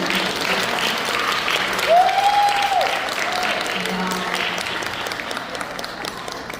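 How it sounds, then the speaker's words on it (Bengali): Steady crowd applause at a children's stage performance of the play Lonkadahon Pala, a broad even wash of clapping for several seconds with a brief whistle-like tone and some background voices mixed in. "হাততালিটা হয়েছে"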